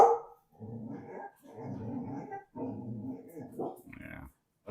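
A dog barks and growls in bursts in an indoor room, loud and close, with pauses between the outbursts.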